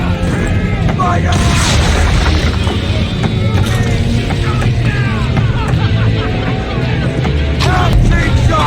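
Naval cannons fire in Assassin's Creed 3 Remastered, set in the American Revolution. Loud, dense booms roll over a constant rumbling battle din, with shouted voices mixed in throughout.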